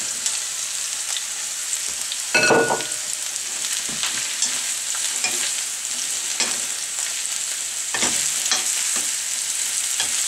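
Mushrooms tossed into a hot pan with ginger root sizzle steadily on medium-high heat, a continuous loud frying hiss broken by a sharper burst as they go in and occasional stirring scrapes.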